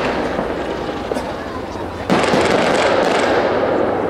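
An aerial firework shell explodes at a large fireworks display, a sudden loud burst partway through that fills the air with a sustained crackling roar over an already noisy outdoor crowd background.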